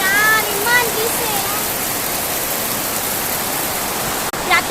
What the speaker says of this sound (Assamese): এয়া বৰষুণ দিছে চাওকচোন